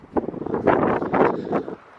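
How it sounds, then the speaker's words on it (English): Gusty wind buffets the microphone in rumbling bursts, loud and close, rising and falling over a couple of seconds. "Sorry if it's windy, because it is"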